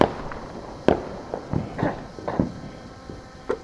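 Fourth of July fireworks over Artesia, New Mexico in 2025, a series of distant booms and sharp pops arriving at irregular intervals with crackling in between, moderately loud with no voices.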